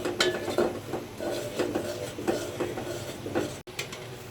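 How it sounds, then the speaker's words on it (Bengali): Hot milk is poured into freshly made caramel in a cooking pot, giving soft splashing and bubbling along with metallic clinks and scraping against the pot. No one speaks. "এখানে আমি ক্যারামেল করার জন্য চিনি নিয়েছি ক্যারামেলটা করে নিচ্ছি ক্যারামেলটা আমার হয়ে গেছে এখন আমি দুধ দিয়ে দেবো এর ভিতরে"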